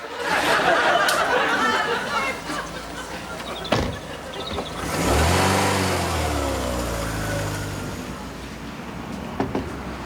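A car engine starts up and revs, then drives off in a British sitcom street scene, a rising mid-pitched engine note fading away, with voices and background chatter beforehand.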